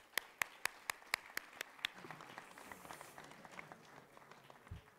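An audience at a national physical education conference applauds the president of ENS Rennes. A few sharp, distinct claps open it, then quieter scattered clapping continues in the hall, faint overall.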